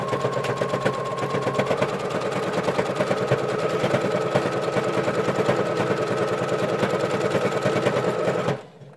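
A sewing machine stitches a knit hat, running steadily forward and in reverse with a fast, even mechanical rattle, loud and close, before stopping abruptly at the end.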